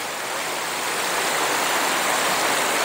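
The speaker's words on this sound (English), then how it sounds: "I need to walk first here in the river." River water flows steadily in a close, continuous rush, loud and even throughout with no voices.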